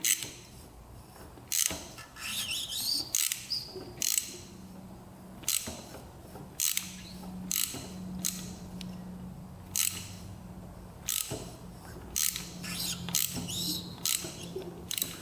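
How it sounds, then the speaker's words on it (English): Faint squeaks and creaks repeat from inside a Honda 500 motorcycle engine that won't start as it is slowly turned by hand to top dead center, punctuated by sharp mechanical clicks and pauses. "I hear something squeaking in there."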